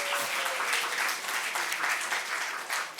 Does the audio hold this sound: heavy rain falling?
no